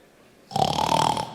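A person imitates a snore with a short rasping, rattling vocal snort that starts abruptly and fades out.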